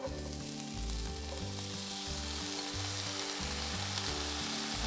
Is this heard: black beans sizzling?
yes